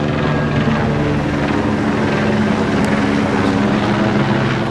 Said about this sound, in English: now we got a helicopter coming over.